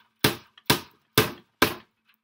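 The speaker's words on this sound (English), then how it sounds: "hammering on the same part that I have my camera" Four sharp, evenly spaced hammer blows ring out close by as cork board is fixed onto a frame, each strike followed by a short decaying ring, with brief quiet between them.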